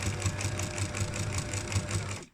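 Sewing machine stitching down a pyjama waistband, a fast, steady mechanical chatter with a regular rhythmic pulse, close and loud, stopping abruptly at the end.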